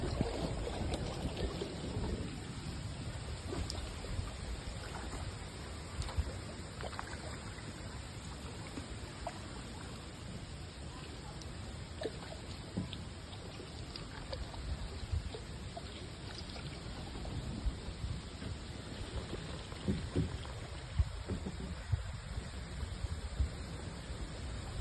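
Boat ride on a pond in Varkala, Kerala: a continuous low rumbling drone with water wash and wind buffeting the microphone, steady and close throughout, with no talk.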